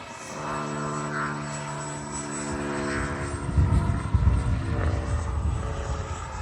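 A Freewing F-22 80mm electric ducted-fan RC jet flying over a field, a steady whining drone with tonal hum that swells louder toward the end as it passes nearer.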